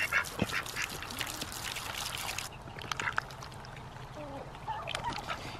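Chickens and other poultry at a homestead water dish, with soft clucks, gobbling calls and splashy sipping noises close by, loudest in the first half, then quieter ambient farmyard sounds.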